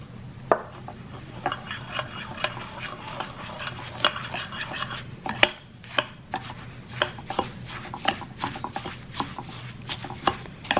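Mango dipping sauce with fish sauce being mixed in a bowl: irregular light clinks and scrapes of a utensil against the bowl over a steady low hum, with no talking.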